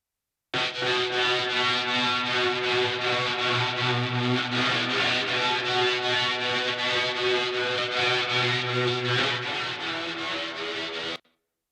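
A loud, dense full-band rock mix with distorted guitars plays back steadily under heavy reverb for about eleven seconds, then cuts off abruptly.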